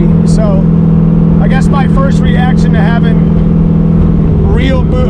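An 800HP turbo Foxbody engine rumbles loud and steady from inside the car while someone talks over it.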